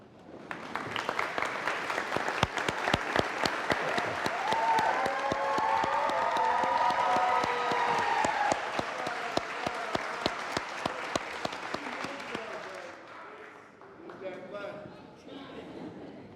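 Commencement audience rising to applaud graduates' families, sustained dense clapping from a large crowd lasting about thirteen seconds, then tapering to scattered claps and murmuring.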